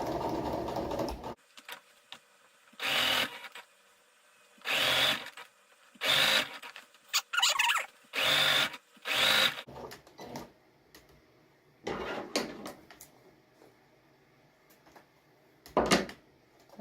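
A sewing machine stitches a cushion cover in repeated short bursts of rapid mechanical clatter separated by quiet pauses and small handling noises, close by with no speech.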